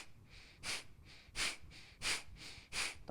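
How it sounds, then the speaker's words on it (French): Nasal exhales during a diaphragm breathing exercise in a yoga session, four forceful, rhythmic bursts of air through the nose, evenly spaced and close, with softer inhales between. "On va expirer avec le nez en rentrant le nombril."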